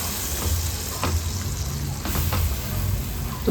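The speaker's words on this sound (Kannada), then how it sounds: "ತುಪ್ಪದಲ್ಲಿ ಚೆನ್ನಾಗಿ ಫ್ರೈ ಮಾಡ್ಕೊಳ್ಬೇಕು" Mashed banana frying in ghee over a low flame, with a steady close sizzle and occasional soft stirring scrapes, no voices.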